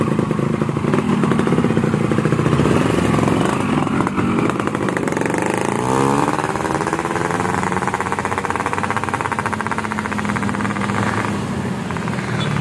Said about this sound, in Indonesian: Mesin-mesin dua tak, bro.